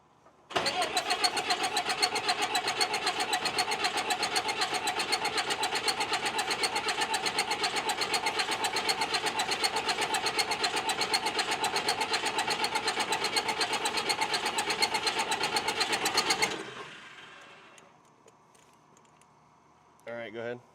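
A high-horsepower pulling tractor engine cranks on ether in a fast, even starter rhythm for about sixteen seconds, then cuts off, leaving near silence and a brief sound at the end.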